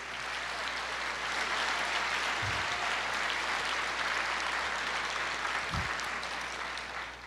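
Congregation applauding in a church service, a steady broadband wash of many hands clapping that holds evenly through the whole stretch, with a couple of brief low thumps mixed in.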